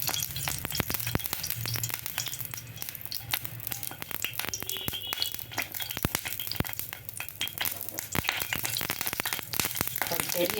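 Fenugreek seeds sizzle in about three spoons of hot oil, tempering for an anchovy fish curry, a steady close crackling fry with occasional stirring clinks and no talk over it.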